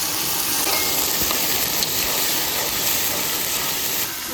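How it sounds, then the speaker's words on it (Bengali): Ginger, garlic and green chilli paste sizzles loudly in a pan of frying onions, a dense continuous hiss and crackle held close up, with no talk over it. "আমার তো পেঁয়াজ ভাজা হয়ে গেছে, এবার আদা রসুন আর কাঁচা লঙ্কা পেস্ট"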